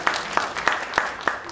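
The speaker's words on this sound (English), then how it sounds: "Yep, let's clap." Small-group clapping at a sales talk, with five distinct, evenly spaced claps by one or a few people, under a speaking voice.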